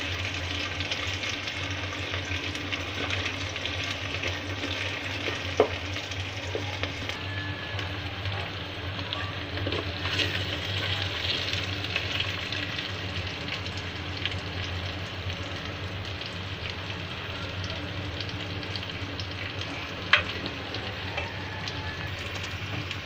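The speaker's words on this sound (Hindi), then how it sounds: "थोड़ा सा इसको मिक्स करेंगे बहुत अच्छे से।" Spices with turmeric and red chili stirred in a hot oiled pan, a steady close sizzle and frying hiss throughout, with faint spoon scrapes and an occasional sharp tap against the pan.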